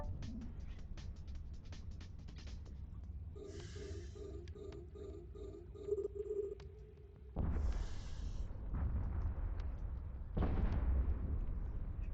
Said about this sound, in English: What a majestic explosion.